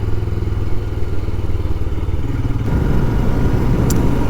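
Royal Enfield Scram 411 motorcycle being ridden on a UK road, its single-cylinder engine thumping loudly and steadily up close, with rushing wind and a shift in pitch partway through.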